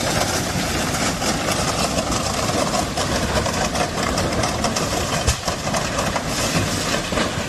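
A heavy train rumbles steadily along the tracks as it slows to a stop, with a dense, continuous roar and faint clattering of wheels on rails, loud and close.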